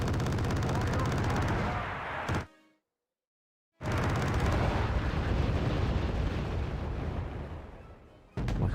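An artillery piece fires in the military strategy game Wargame Red Dragon, a loud, dense roaring blast that cuts off into silence, then a second heavy barrage rumbles on and fades before another burst starts.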